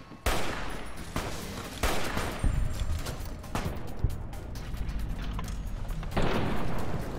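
Gunfire in the video game Fallout New Vegas, several loud sharp shots and booming blasts spaced a second or two apart over a dense, rumbling battle background.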